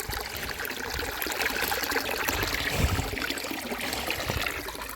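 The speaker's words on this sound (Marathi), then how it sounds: "कपिला पाणी पिते बघा" A cow drinks water from a trough on a farm, giving a steady trickling, sloshing wash with a few low gulping thumps, close and continuous.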